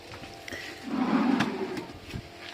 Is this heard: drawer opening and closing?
yes